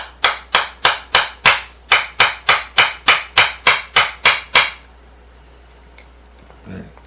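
A hammer drives longer brads into a guitar neck during a repair, striking about fourteen sharp, regular taps in a steady rhythm before stopping, leaving near silence with a faint knock at the end.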